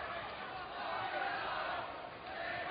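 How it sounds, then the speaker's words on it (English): Boxing crowd at a live fight night getting into the action, a continuous dense murmur and swelling roar of voices and cheers, fairly distant and steady throughout. "And the crowd started to get into it as well"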